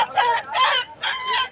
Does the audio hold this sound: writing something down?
no